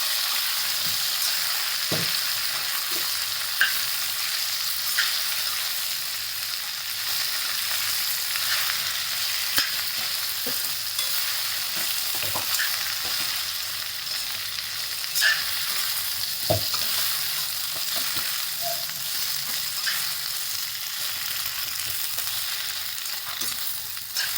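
Half a kilo of okra fries in a pan, a continuous loud sizzle broken by scattered clacks and scrapes as a spoon stirs it, with no one talking.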